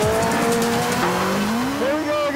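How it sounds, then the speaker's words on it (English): A Caparo T1 car brakes hard, its engine note dropping and tyres squealing loudly and close, with someone talking excitedly over the noise. "And the braking! Oh, God! You couldn't stop more quickly if you ran into a tree."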